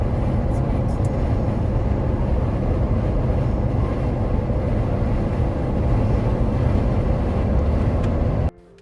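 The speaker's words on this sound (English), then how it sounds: "So yes, as expected, you will encounter a fair amount of wind noise." Inside a 2023 Mahindra Pik Up Karoo Dawn fitted with all-terrain tires, bundu gear and a roof rack, a constant loud roar of wind and tire noise on a town road runs unbroken, then cuts off abruptly at the end.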